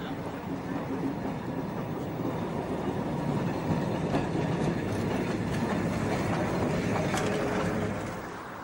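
A historic East German-era tram in Leipzig rumbles steadily along rails, with continuous rolling noise, faint clattering and occasional light squeals, moderately close.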